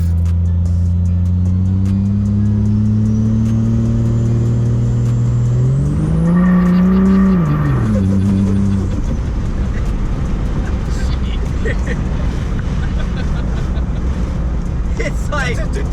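A 5.9 Cummins diesel truck with an aftermarket exhaust drones at highway speed, a steady low loud hum whose pitch rises and falls briefly mid-way before settling into broadband road noise.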